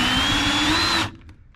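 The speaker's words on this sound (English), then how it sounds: "you can see it starts to drill the head of it." A power drill bores out the head of a rivet with a rivet removal tool, whining loud and steady for about a second, then cutting off abruptly to near silence.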